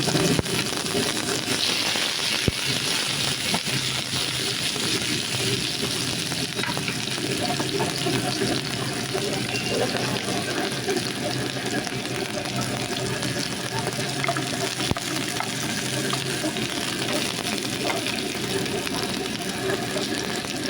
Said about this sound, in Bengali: পেঁয়াজগুলো আমি খুব ব্রাউন কালার করে ভাজবো না এটা একটু নরম করে দেবো